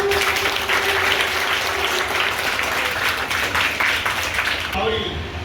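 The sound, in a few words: applause from the audience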